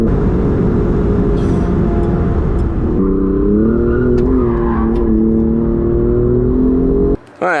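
An Alfa Romeo Giulia GTAm at the Nürburgring, its engine loud and close, droning at steady revs, then shifting to a rising, wavering pitch mid-run before the sound cuts off abruptly near the end.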